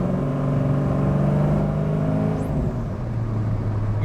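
A 1972 Chevrolet Chevelle SS 454 V8 accelerating steadily, a loud continuous engine drone that holds for several seconds and eases slightly near the end.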